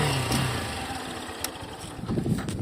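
A motorcycle engine with its stock factory exhaust idles at a steady, low, even rumble up close, with a couple of brief clicks over it and no talking.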